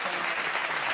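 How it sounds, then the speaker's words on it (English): A brief, dense burst of crowd applause at a live hip-hop show, steady and even throughout with no distinct individual claps standing out. "give him a round of applause"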